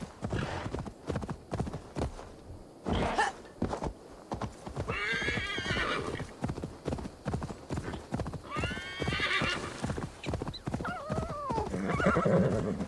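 Horse in the video game Assassin's Creed Valhalla, steady clip-clopping hooves throughout, close and fairly loud, with repeated neighs and whinnies breaking in over the beat.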